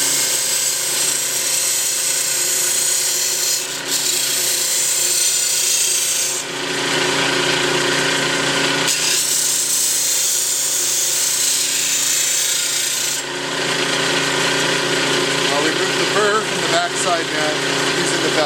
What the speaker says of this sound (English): your hands away from the belt sander, and obviously the metal gets very hot